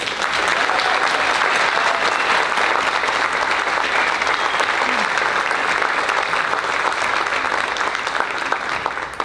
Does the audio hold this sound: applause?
yes